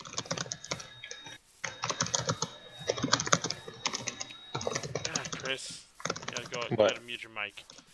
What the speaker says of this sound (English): You're typing. Sorry. So loud.